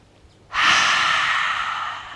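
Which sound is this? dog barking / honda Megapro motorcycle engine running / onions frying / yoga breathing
yoga breathing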